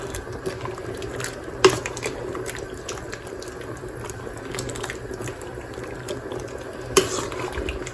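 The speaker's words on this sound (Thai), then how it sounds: "เดือดอีกรอบแล้วพี่น้อง" A pot of bamboo shoot curry with gourd simmers at a steady rolling boil, the bubbling close and continuous, with a couple of sharper pops or knocks of the pot.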